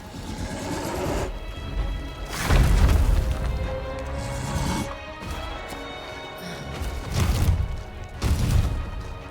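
Fire magic attacks from the game Eternal Strands strike a monster in heavy, booming crashes. Several loud impacts land at irregular intervals over a constant rumbling game background, with no voices.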